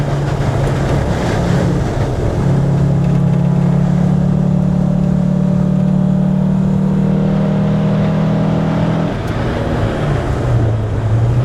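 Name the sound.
car engine revving on Snetterton race track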